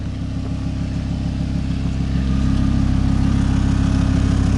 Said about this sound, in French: Le bruit du ralenti en mode dynamique.